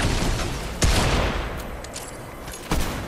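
Gunfire in a video game, with two sharp broadband shots standing out over a steady noisy battle backdrop, loud and close, no talking.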